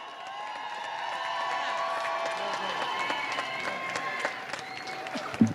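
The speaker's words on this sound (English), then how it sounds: "One more big round of applause for Teacher of the Year, Rodney Robinson" Rally crowd applauding and cheering outdoors, a sustained wash of clapping with whoops and shouts layered over it, steady and moderately loud for several seconds.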